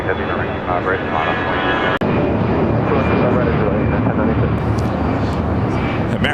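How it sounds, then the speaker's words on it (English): American Airlines Boeing 777-200ER jet roaring on the south-side runway at LAX, a loud continuous engine rumble with someone talking over it throughout. "American 777-200ER, flight 2811. I think this is the Dallas flight. Next takeoff here on the south side."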